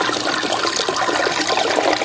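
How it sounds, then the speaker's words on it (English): Water pours steadily into a filter on a large saltwater aquarium, making a loud, continuous splashing waterfall rush with bubbling texture and no voices. "it's creating that waterfall effect, which is making a lot of noise"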